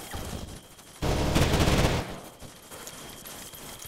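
Automatic gunfire in the military shooter Arma 3: one sustained burst of rapid shots lasting about a second, loud and fairly close, set against quiet outdoor ambience with a sharp crack at the very end.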